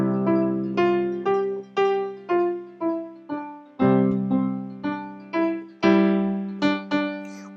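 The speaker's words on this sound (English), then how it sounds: "I can learn how to play chords or simple other notes on the left hand to make it sound a little bit more complete" Piano melody in the right hand with chords held in the left hand, a steady run of about a dozen struck notes over sustained low harmony, clear and alone without speech.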